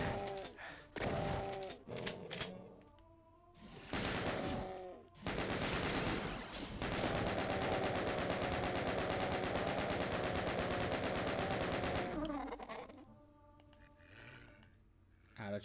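Sustained rapid chain gun fire in the classic Doom video game, a loud dense burst running several seconds after shorter bursts of gunfire, with game effects before and after.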